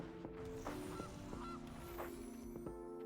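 In the MTG Arena card game, a goose card is played and honks several times in quick, clear, nasal calls over a faint game background, with no voices.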